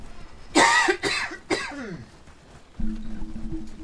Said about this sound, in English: Did not want to cough into the microphone.